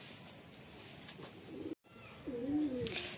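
Pigeons coo softly inside a loft with a low murmuring hum, a brief dropout midway, then a clearer, louder coo rising near the end.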